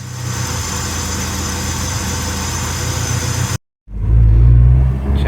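A Honda Civic EG engine, just back together after a transmission rebuild, idles with a steady close hum, cuts out briefly, then restarts louder and rougher before settling into a strong idle.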